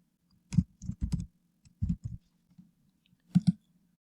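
Mouse double-clicks during Photoshop work, quiet sharp clicks in close pairs with a short pause between groups, near and alone with no talking.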